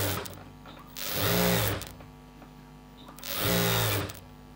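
A sewing machine stitching chudi pant fabric runs in two short bursts of whirring motor and needle chatter, close up, separated by a quieter pause.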